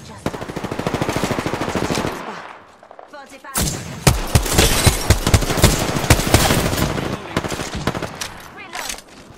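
Bursts of rapid automatic gunfire from hostile enemies in a shooter video game, loud and close, with a steady rattling stream early on, a brief lull, then heavier sharp shots in quick succession.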